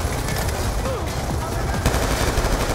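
Rapid video game gunfire crackles in a continuous dense burst of shots throughout, loud and close, with a player's voice talking underneath.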